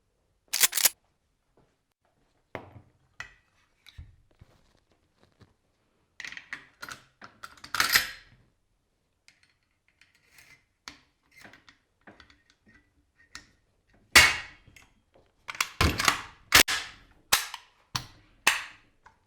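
A rifle fitted with a Zenitco B-33 dust cover is put back together, giving sharp metallic clicks and snaps scattered among near silence, with a few clustered clacks near the end, all close up.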